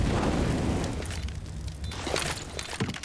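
A grenade bursts in a competitive shooter match, a loud booming blast up front that rolls into rumbling debris, followed by scattered sharp cracks and pops of gunfire with no voices.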